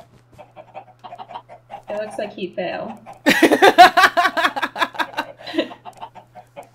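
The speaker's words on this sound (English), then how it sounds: "he's going to kill all the chickens" Chickens cluck in a video game, a rapid, busy run of clucks and squawks that rises in the middle, with people talking throughout.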